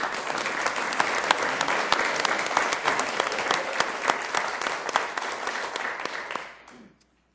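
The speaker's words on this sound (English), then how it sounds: "Let's give a round of applause." Audience at a Sioux Falls city council meeting applauds steadily for about six seconds, a dense, even clatter of many hands that fades out quickly at the end.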